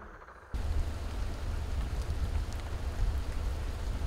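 Afternoon rain pours outside a Zen meditation hall on Jeju, starting abruptly as a dense, steady hiss of falling drops that continues to the end.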